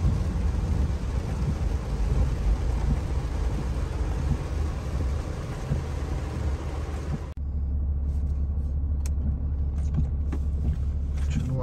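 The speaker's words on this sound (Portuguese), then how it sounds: "Tá caindo a água na Bahia, só chuva." Heavy rain in Bahia, Brazil roars in a dense, steady wash, then cuts abruptly to a muffled car interior rumble with a low engine hum.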